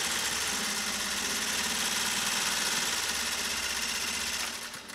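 A 1956 Singer 401A sewing machine, restored after arriving weak, running at steady high speed through a stitch pattern, a continuous close whirring rattle that stays even before slowing and trailing off at the very end.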